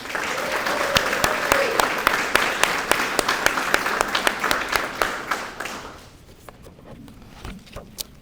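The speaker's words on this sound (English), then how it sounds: "if we could give a round of applause for our flag" Audience applause in honor of the American flag at a Wilmington historical event, steady clapping with crisp individual claps up close that thins out after about six seconds, leaving a few scattered claps and faint voices.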